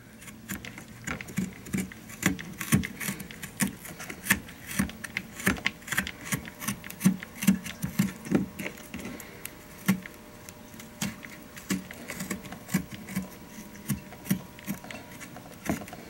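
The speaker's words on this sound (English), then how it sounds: "we're going to take the spoon and we're just going to scrape off the skin" A spoon scraping the skin off a small nubby piece of fresh ginger, a steady run of soft, quick scratching strokes, close and fairly quiet, with no voices.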